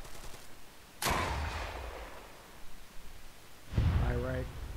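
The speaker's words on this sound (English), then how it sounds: "There's our two AT shots." Two anti-tank weapon shots fire in the military game Arma during a joint operation, each a sharp, loud blast with a decaying tail, spaced about three seconds apart, with a brief voice near the second.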